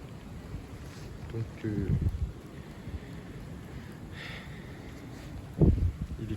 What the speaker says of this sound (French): donc les rafales atteignent les 80 km/h, on est 78 km/h sur Paris